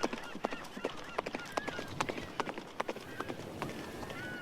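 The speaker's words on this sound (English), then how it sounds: "So as Jimmy rides off on his steed" Horse hooves galloping in an animated comedy scene, a quick uneven run of sharp clip-clop strikes close up, with a voice speaking over part of it.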